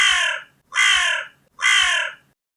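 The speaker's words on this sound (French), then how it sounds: "Il ouvrit son bec et de tout son souffle se mit à croasser." A crow caws three times in a slow, even rhythm, each call loud, harsh and close, with short silent gaps between.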